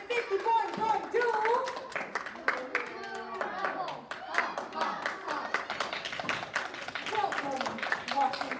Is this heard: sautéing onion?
no